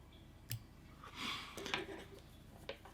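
Small scissors snip away material at a fly-tying vise, a quiet click and a couple of faint crisp cuts in an otherwise hushed room.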